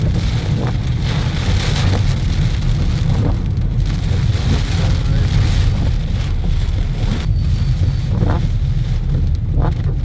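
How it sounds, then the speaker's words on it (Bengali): Heavy downpour in Mecca, Saudi Arabia, during a rain and dust storm: a loud, steady roar of rain with gusty wind rumble, continuous throughout with no pauses. "মুসলধারে বৃষ্টি হচ্ছে"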